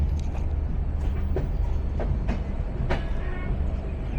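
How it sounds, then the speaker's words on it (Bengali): A locomotive-hauled passenger train rolls steadily along the tracks in Bangladesh with a continuous low rumble and periodic rhythmic clacks from the wheels, fairly close and without voices. "আর বিপরীত পাশ থেকে আজকে ভীষণ বিলম্বের বোঝা চাকায় নিয়ে 2900 শ্রেণীর লোকোমোটিভ"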